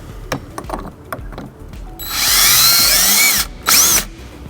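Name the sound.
power drill drilling holes for hitch wiring bracket hardware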